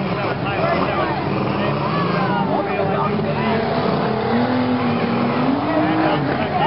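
Compact cars revving and grinding at a daytime demolition derby at Green County, with steady engine roar and tire noise throughout, under a loud announcer's voice.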